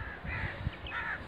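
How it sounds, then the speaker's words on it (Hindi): A few harsh, crow-like bird caws sound faintly in the distance over a soft outdoor background on an early morning in a village in Pakistan. "परिंदे जो है ना चहचहा रहे हैं, खूबसूरत सी आवाज़ें आ रही हैं परिंदों की।"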